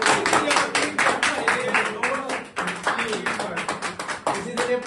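Office staff clap together at a celebration, a loud, close run of rapid hand claps from a group with voices mixed in, briefly dipping midway before the clapping picks up again.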